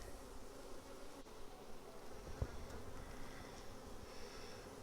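Honey bees hum in a constant low drone around an open hive during an inspection of brood frames, with a faint knock partway through.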